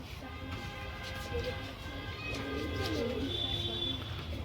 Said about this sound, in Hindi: और ये आ गए कबूतर फिर से छत पे।